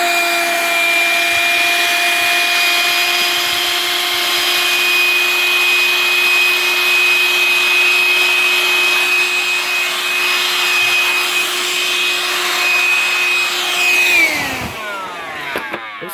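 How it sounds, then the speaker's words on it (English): A small Dirt Devil Kone hand vacuum motor whines steadily at close range, with faint rubbing and scraping underneath as it sucks up dirt, then winds down near the end. "I'm gonna vacuum it up just to show you the suction's okay."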